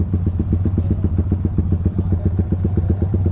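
A Yamaha R15 V3 motorcycle engine bored to 240cc runs at a steady, throbbing idle, close and fairly loud, with a rapid even pulse and no other sounds.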